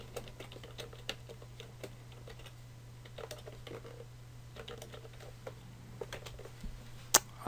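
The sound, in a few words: typing on a computer keyboard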